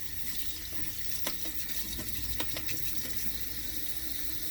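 Running tap water splashes steadily as something is rinsed under it, a faint continuous patter with a few small knocks, close by and without talking.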